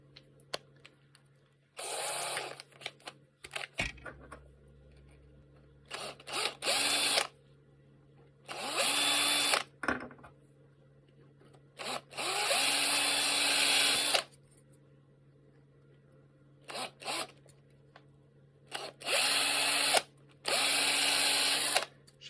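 A small power drill with a 3mm bit whirs in about eight short bursts, clearing out holes, separated by quiet pauses, close by with no talking.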